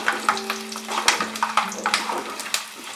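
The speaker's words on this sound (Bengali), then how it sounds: "রসুনটা দিয়ে আমি মিনিট খানেক এটাকে ফ্রাই করব।" A fistful of whole garlic cloves fries in hot oil in a pot for a Rajasthani mutton curry. The sizzle is steady and close, with soft stirring clicks and scrapes at irregular intervals and no voices.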